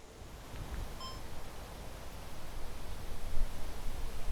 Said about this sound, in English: I think there's too much wind